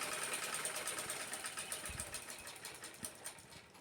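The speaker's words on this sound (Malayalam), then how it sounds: "എന്നിട്ട് നല്ല രീതിക്ക് സ്റ്റിച്ച് ചെയ്തെടുക്കുക." Sewing machine stitching fabric for a scrunchie, a steady fast whirring stitch rhythm running throughout, close by and moderately quiet, with a few soft thumps.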